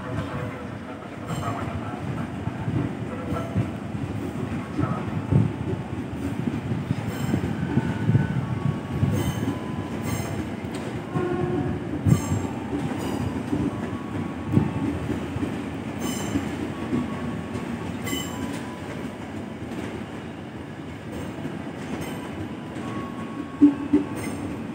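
Commuter train TM6120 pulling into track 4 at Cikarang station, a steady low rumble of wheels and carriages with occasional sharp clanks and squeals, continuous and fairly close throughout.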